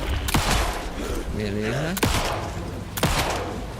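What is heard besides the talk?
gunshots in the video game Alan Wake 2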